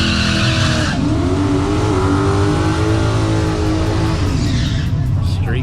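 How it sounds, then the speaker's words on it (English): A street car does a burnout at a drag race, its tires squealing and skidding over a loud, sustained engine roar that fades near the end, with crowd noise or commentary in the background. "Here we go, first burnout of the day"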